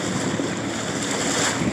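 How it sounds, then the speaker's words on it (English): Wind buffets a phone microphone aboard a boat on Hamlin Lake, a loud continuous roaring rush with water and engine noise mixed underneath. "Sorry if you guys hear any wind"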